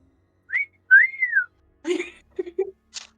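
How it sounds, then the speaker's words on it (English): A person whistles: a short chirp, then a longer sliding tone that rises and falls, followed by a few brief soft clicks and mouth noises in an otherwise quiet room. "I just whistled"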